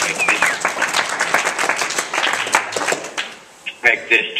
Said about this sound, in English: give yourself and your parents a round of applause for everything